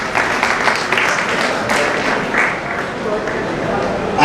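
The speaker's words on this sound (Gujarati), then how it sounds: "એના માટે એકવાર આપણે ફરી એકવાર જોરદાર તાળી પાડશું" Audience at a Gujarati senior citizens' family gathering in Dahisar East gives a burst of loud, sustained clapping that fills the room, with some talk mixed in.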